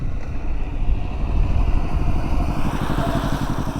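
A motorcycle engine idling nearby while a beginner learns to ride, a loud steady rumbling putter with wind buffeting the microphone and no speech.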